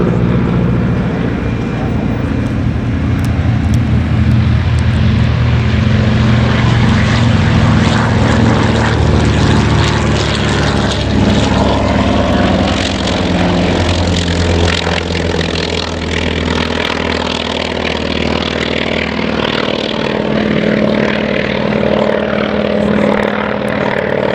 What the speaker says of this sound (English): another pair of American fighters are ready to go off after it. Yes, here they go, scrambling off the 75.